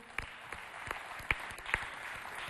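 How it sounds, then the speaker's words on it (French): Scattered, sparse clapping from a small audience at a children's day conference hall, a few distinct claps standing out over a steady low room murmur, fairly faint and distant. "On va applaudir pour toutes les questions, s'il vous plaît."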